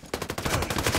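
Gunfire in the video game Ghost Recon Breakpoint during online PvP play: a rapid, loud burst of automatic shots, evenly spaced and sharp, filling the whole second.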